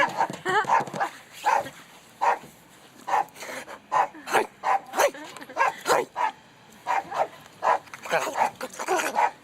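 A dog barks and yips in repeated short bursts, close and loud, with whimpering between them, while people talk over it.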